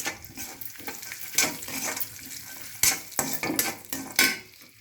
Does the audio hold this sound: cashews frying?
yes